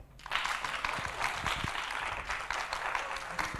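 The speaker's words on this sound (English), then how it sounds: "There should be another applause for a different pose." Audience applause at the FameLab Poland science communication final, steady clapping with a few sharper individual claps standing out, moderately loud and sustained.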